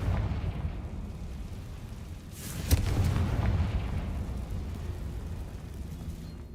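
Bombarda and Confringo spell blasts in Hogwarts Legacy, one sharp burst rising into a rumbling explosion midway, over a steady low game ambience.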